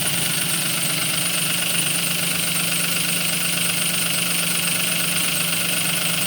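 A Toyota Wigo car engine idles without a break after an overhaul, a low, even rumble with a faint rattle running underneath, loud and close throughout.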